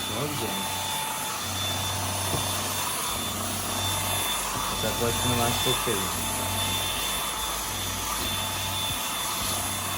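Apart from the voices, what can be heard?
Samsung Powerstick Jet VS9000 cordless stick vacuum cleaner running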